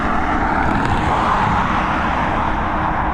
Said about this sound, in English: Next up, we've got this A320 coming in from the Dam